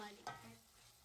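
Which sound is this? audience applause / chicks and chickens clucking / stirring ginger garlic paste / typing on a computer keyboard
stirring ginger garlic paste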